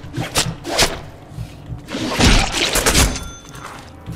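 Heavy melee attacks land on goons in the Deadpool video game on PC, a series of loud, close thumps and smashing impacts in irregular bursts, with little speech.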